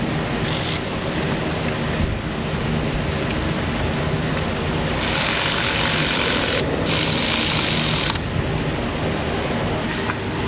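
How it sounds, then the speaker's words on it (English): A ratchet tightens new NGK Iridium spark plugs in a car engine in an auto repair shop, producing a dense, steady rasping and clicking that runs for the whole stretch, with brief louder bursts and no talk. "Putting my spark plugs in"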